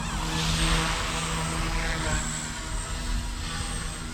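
A Blade 150S RC helicopter flies in strong wind of about 20 mph, its steady whining rotor and motor drone continuous and close, mixed with broad wind rush across the whole stretch.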